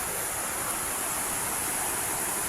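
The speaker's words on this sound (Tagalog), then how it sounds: "Ayan guys, yan po yung ilog." A river flows steadily as a constant broadband rush of water, even and unbroken throughout, with no voices.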